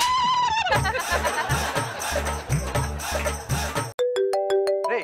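A loud, beat-driven musical ringtone plays, then cuts to a short run of sharp electronic tones.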